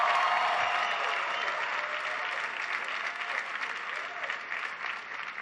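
Audience applause at a town hall with young African leaders, a steady sustained wash of clapping from a large crowd that fades slightly toward the end.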